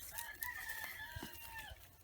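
Chickens cluck softly while a rooster crows in a drawn-out call, faint and somewhat distant, with no talking.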